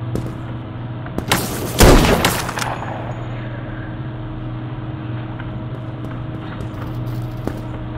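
AKM rifle fire in a free-for-all round of a video game: one loud, close burst of shots near the start, then a steady low background hum.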